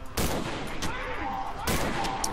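Gunshots in the horror video game Cry of Fear: two sharp, loud reports roughly a second and a half apart, with a couple of fainter clicks and faint game ambience between them.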